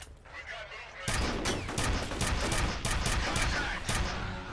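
A sudden loud blast in the first-person shooter F.E.A.R. cuts in after a quieter start and is followed by a dense volley of sharp gunfire cracks and booms, close and sustained.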